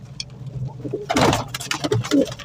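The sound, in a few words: pigeons cooing at the Shahdara pigeon market in Lahore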